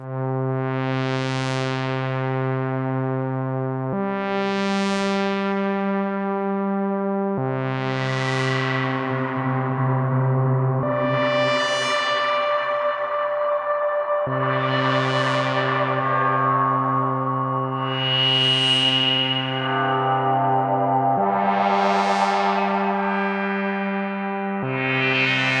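A modular synth oscillator runs through an Erica Synths stereo delay, stereo filter and reverb, with stepped random voltage and sine LFO modulation, giving loud sustained bell-like tones that change pitch every few seconds and decay into shimmering echoes.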